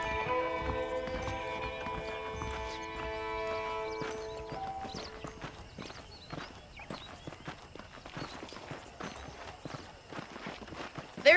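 Video game horse hooves clip-clop steadily while riding, a brisk rhythmic run of light hoofbeats that grows busier after a sustained musical tone fades out.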